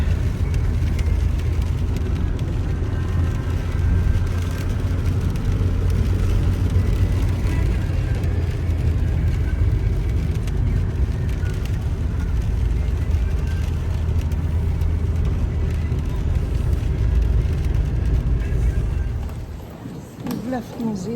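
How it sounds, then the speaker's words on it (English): A car drives through thick fog on the way to the airport near Queenstown, New Zealand, its steady low engine and road rumble loud and continuous before easing off near the end. "Driving now to the airport"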